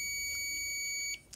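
A multimeter on continuity test beeps while its probes touch a RAM circuit capacitor on a computer motherboard, giving a steady high electronic tone for about a second that cuts off abruptly, followed by a faint click.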